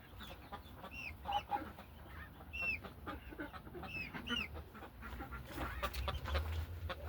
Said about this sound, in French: Oh, la poule qui est pas trop contente.